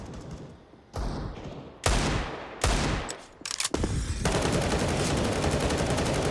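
Gunfire and grenade blasts in a professional Counter-Strike match on the Vertigo map: sharp shots and rapid bursts cut in abruptly, with heavy thumps, then sustained loud automatic fire.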